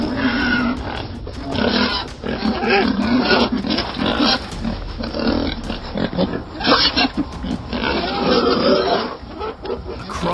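Wild boars grunting and squealing in Manitoba, a dense, loud, continuous mass of rough grunts and snorts from several animals close by.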